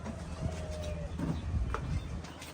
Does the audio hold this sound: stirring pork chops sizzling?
no